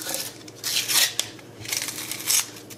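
A pair of scissors snips through material in a few crisp, close cuts, the metallic slicing strokes arriving in short bursts with brief pauses between them and no talking.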